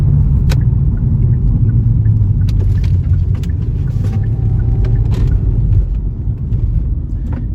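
A car driven by a drunk driver rolls through a residential neighborhood, a steady loud low engine rumble passing close by with scattered faint clicks and knocks, easing off near the end.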